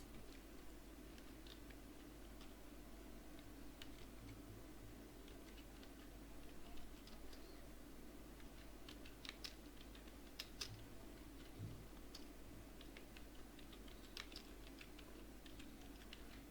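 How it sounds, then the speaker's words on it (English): Quiet, scattered clicks of typing on a computer keyboard in a faintly humming room, irregular keystrokes entering plant symptoms, with no one talking. "So let me type some symptoms."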